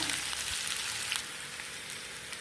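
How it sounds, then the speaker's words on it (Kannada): Onions fry in oil in a pan for a radish palya, giving a steady, close crackling sizzle that runs unbroken at an even level with no voices. "ಈರುಳ್ಳಿ ಆಗಬೇಕು ಎರಡು ನಿಮಿಷ ಫ್ರೈ ಮಾಡ್ಕೊಳ್ಳೋಣ"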